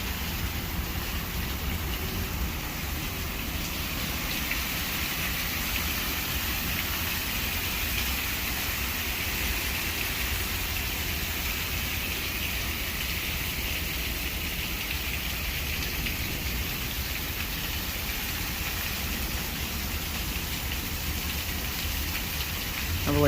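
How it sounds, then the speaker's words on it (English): Steady rain falls in Little Rock, Arkansas after a tornado warning, a constant broadband hiss with a low rumble that may be a passing car, continuous and fairly loud throughout. "The rain is slacking up."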